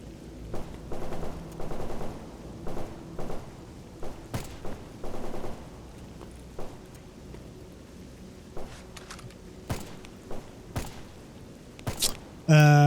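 Short bursts of automatic gunfire erupt repeatedly in S.T.A.L.K.E.R. Anomaly, spaced volleys and single shots ringing out at moderate distance, with footsteps and a voice talking in between.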